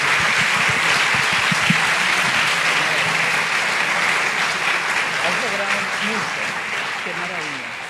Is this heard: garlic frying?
no